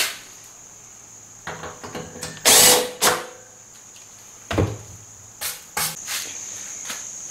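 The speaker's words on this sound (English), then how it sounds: "I'm just going to deburr that." A hand drill briefly deburring a 3.5 mm rivet hole, a few short whirring bursts separated by pauses, close and fairly loud, with a faint steady high background hum.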